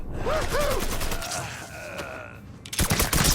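Rapid bursts of automatic gunfire in a Mafia 3 shootout, dense and loud, with shouted voices in the mix and a sharper volley near the end.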